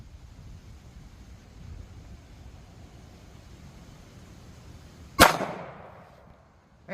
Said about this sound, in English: I'm trying to give you good Glock shots.